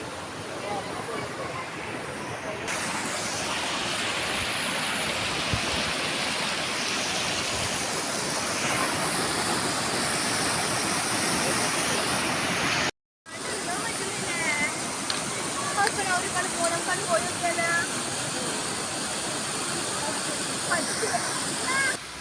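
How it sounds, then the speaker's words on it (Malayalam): Karinkappara waterfall, a stream cascade, roars as a loud, steady broadband rush of falling water throughout, with a brief gap midway; some voices may be faintly mixed in. "തോട് കരിങ്കപ്പാറ വെള്ളച്ചാട്ടം നാടിൻ്റെ സൗന്ദര്യം സമ്പത്ത്"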